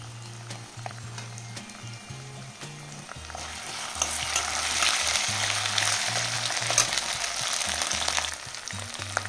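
Garlic and ginger paste sizzles and spatters steadily in a hot pan, a dense close frying hiss that swells slightly midway, with occasional low stirring knocks and no talking.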